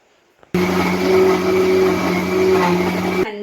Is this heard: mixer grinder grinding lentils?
yes